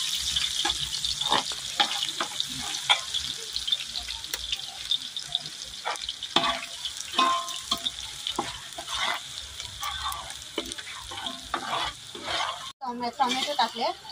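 Chopped onion hitting hot oil in a pan for a spicy dried-shrimp curry, a steady loud sizzle and crackle with stirring scrapes, while someone talks over the cooking.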